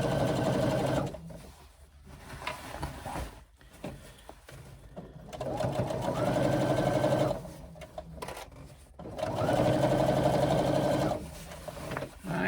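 Sewing machine stitching an eighth-inch seam around the top of a fabric swim bag, running steadily in several long stretches with brief stops and soft handling sounds between, close by and without talk.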